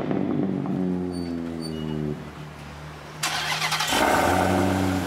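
A car engine starts with a brief cranking and catches into a steady idle hum, then a burst of broadband noise and a louder, fuller engine note close by; nobody speaks.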